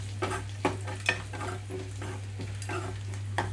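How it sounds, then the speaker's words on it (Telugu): Onions fry in a small tempering pan for buttermilk curry, a steady close sizzle broken by regular scraping strokes of a spoon stirring every half second or so. "ఇలా కదిలించుకుంటూ వేయించుకోవాలి మాడిపోకుండా"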